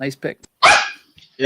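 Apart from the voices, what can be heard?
dogs barking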